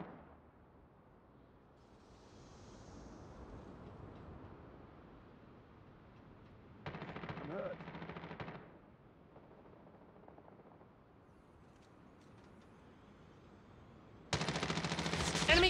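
Gunfire in a multiplayer shooter game comes as two loud bursts of rapid automatic fire, separated by quieter ambient stretches, with no speech.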